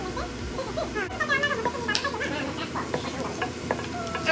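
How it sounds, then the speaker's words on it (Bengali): Cabbage fry with green chillies is stirred in a wok, giving a moderate sizzle with scraping and ticking strokes of the spoon, while faint voices sound in the background. "আমি তখন আর কি কাঁচামরিচ দিয়ে আর একটুক্ষণ নাড়া দিয়ে আমি নামিয়ে ফেলবো।"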